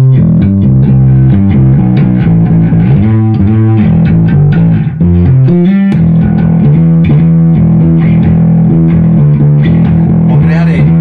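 Rock bass guitar track recorded with heavy distortion, playing a continuous loud riff of sustained and shifting low notes with gritty effects throughout.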